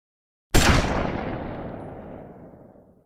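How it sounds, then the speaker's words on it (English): A single sharp gunshot cracks inside an apartment complex, followed by a long decaying echo rolling through the corridors, loud and close with nothing else heard. "It wasn't a firework, but something far more ominous, a gunshot"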